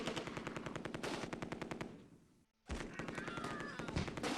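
Rapid bursts of MG42 machine-gun fire in the Close Combat II war game, loud and continuous, break off briefly into near silence, then resume as a steady rattling stream of automatic shots.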